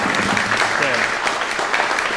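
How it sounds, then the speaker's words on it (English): An audience at a music masterclass applauds, a steady wash of clapping with a voice briefly audible underneath. "So let's try. You applaud again."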